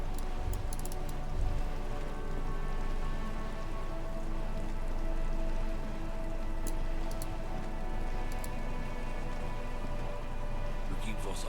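Steady rain falls throughout a city street scene in the video game Disco Elysium, a dense continuous patter with a few faint brief sounds on top and no speech.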